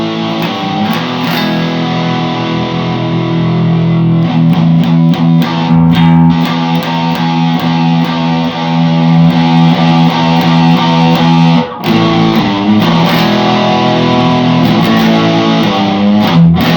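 Harley Benton SC 450 P90 GT electric guitar played loud through overdrive, bridge P90 pickup, sustained distorted chords ringing continuously with a brief break near the end, no talking.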